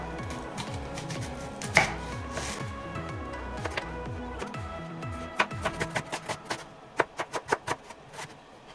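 Half an onion being chopped with a knife on a board during Cuban shrimp enchilado prep, a close, steady run of knife taps that quickens into sharp distinct strikes near the end, with faint music underneath.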